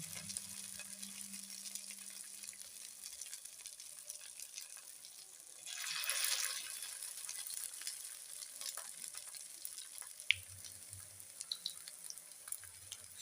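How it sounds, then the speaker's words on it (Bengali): Chirer chop, flattened rice cutlets, fry gently in oil over low heat with a faint, soft sizzle. A low hum sits beneath it at the start and end, and a brief louder swell of hiss rises midway. "সব কটাকে এইরকম ভাবে ভেজে নিই, লাল কড়া কড়া করে ভাজতে হবে।"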